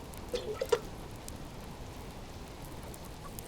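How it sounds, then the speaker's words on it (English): Constant rain falls in the survival video game Subsistence as a faint, even hiss, with a few soft drips near the start and no voices. "I don't know why we've got constant rain like this"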